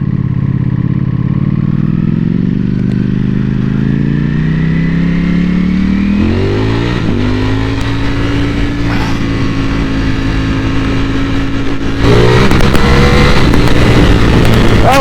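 A Ducati Panigale V4S motorcycle in race mode, its engine revving up from idle with climbing pitch, holding a high steady rev, then surging louder near the end, close and dominant.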